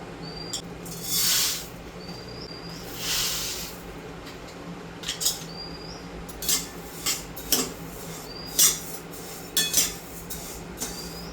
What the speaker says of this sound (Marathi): सगळ्यात अगोदर मी जे कोरडे मसाले भाजायचे आहेत ते भाजून घेते